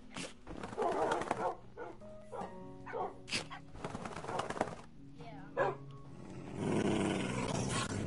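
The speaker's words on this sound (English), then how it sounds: "dogs are getting mad at each other" Dogs or wolves in a PS4 game growl and bark in short bursts, squabbling with one another; voices talk throughout, with a louder snarling flare near the end.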